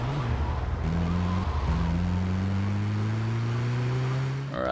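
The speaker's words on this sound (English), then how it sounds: "God damn, there's a lot of cars in the road." Engines whine in dense traffic in GTA Vice City, the pitch of one steady motor climbing as it accelerates after brief gear-like drops, loud and continuous with a faint skid near the end.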